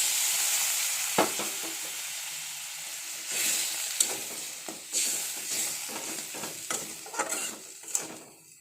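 Spice paste frying in a home kitchen pan makes a soft, close sizzle, broken by repeated scraping and clicking strokes as it is stirred, with no talking.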